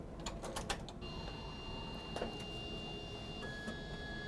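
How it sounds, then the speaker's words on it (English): Closing the printhead of an i7500 industrial label printer gives a few soft, quick mechanical clicks near the start, then faint steady electronic tones and a low hum. The scene is quiet, with no talking. "and simply close the printhead."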